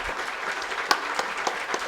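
Audience applause at the closing ceremony of a Shrimad Bhagavat Katha, a steady, dense wash of clapping hands from a crowd throughout, with a few sharper individual claps standing out.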